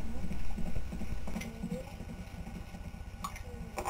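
Horse hooves clip-clop in a quick, even rhythm as a mounted knight gallops through a three-ring jousting ride at a poultry festival, with a crowd murmuring and a loudspeaker voice in the background.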